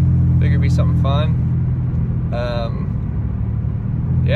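A Mustang is heard from the cabin while driving, a loud, steady low engine rumble that continues throughout, with brief voices over it.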